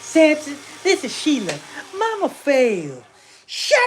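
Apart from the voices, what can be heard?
No everyday noise stands out behind the speech.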